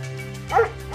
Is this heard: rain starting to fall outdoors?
no